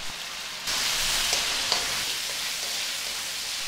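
Strips of beef fillet hit hot sesame oil for Peruvian filete saltado, letting out a sudden, steady hiss of sizzling that jumps up and holds, with a couple of small pops, no voices.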